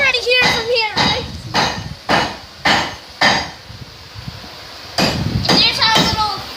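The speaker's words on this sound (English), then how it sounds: "There's where we're hammering all the stuff." Hammer blows ring out at a forge where a knife is being forged, about six evenly spaced, fairly loud strikes on metal, with voices talking before and after.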